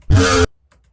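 A single short, bright, buzzy synth note with all its processing switched off sounds for under half a second, then cuts to near silence with a faint trailing blip.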